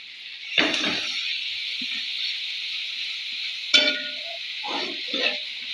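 Food is stirred in a sizzling tempering pan with jackfruit seeds, a steady hiss of frying broken by a few scraping stirs of the spoon against the pan.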